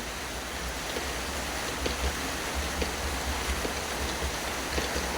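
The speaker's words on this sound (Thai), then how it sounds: "ฝนลงแล้วครับ หลังจากที่สังกะสีหลังคาเราเปิดไปนะครับ" Steady rain falls on a corrugated metal roof, a dense even hiss with occasional faint ticks of drops, continuous and unbroken, with no voices.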